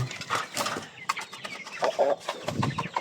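Brahma chickens cluck in short, uneven bursts nearby in a backyard farm, mixed with rustling and faint background activity.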